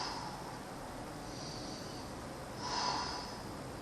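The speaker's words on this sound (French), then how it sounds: "Inspirez, soufflez, maintenez." Breathing in and out during a glute exercise workout, soft close breaths with a louder exhale or snort near the end over a faint background hiss, and no speech.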